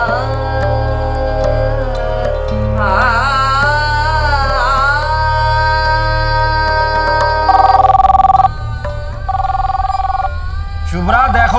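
A telephone rings with a melodic electronic ringtone in a television crime drama, repeating tonal phrases heard close and clear over a low background hum.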